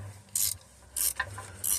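A brake line fitting is tightened with a ratcheting wrench, giving three short metallic clicking bursts in an irregular rhythm, close and fairly quiet, with no talking.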